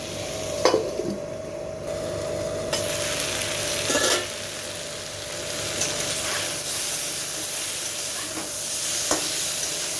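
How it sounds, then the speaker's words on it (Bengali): Fish and potatoes frying in a pan with a steady sizzle and hiss, broken by a few sharp scraping stirs of a spatula, close and moderately loud with no talking. "ঢাকনা খুলে খুলে বারবার একটু নাড়িয়ে দিতে হবে।"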